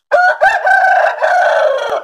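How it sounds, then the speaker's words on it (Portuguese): A rooster crows loudly and close, one full cock-a-doodle-doo call with a broken start and a long drawn-out ending, heard alone. "E o galo cantou."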